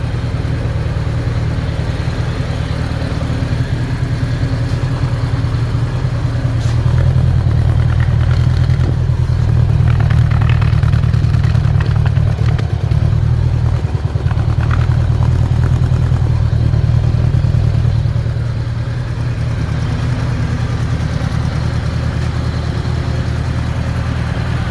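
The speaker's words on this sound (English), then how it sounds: "Sped the idle up a little bit just to get some heat in her." A home-built budget bobber motorcycle engine idles steadily in a garage, its idle raised slightly to warm it up, a loud, continuous near rumble with a brief dip midway and no talking.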